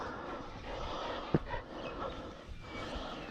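Hunting dogs sniff, snort and pant close by at a rabbit burrow in the open, with a sharp snuffle standing out among steady breathy noise and outdoor ambience.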